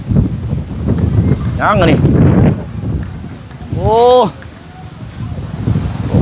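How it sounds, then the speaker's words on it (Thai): Strong, cold wind buffets the microphone in a continuous roaring rush with loud gusts, while people talk and call out over it. "โอ้ลมแท้นี่พี่น้องเนาะ"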